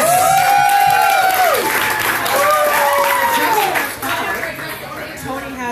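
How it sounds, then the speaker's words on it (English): Audience applause at a live comedy show, loud and sustained clapping with some chatter, under a voice speaking over it, fading toward the end. "Everybody, big round of applause for Tess."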